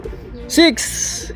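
A single soft coo from a racing pigeon arriving home from a race rises and falls briefly near the middle, close by, with faint voices murmuring around it.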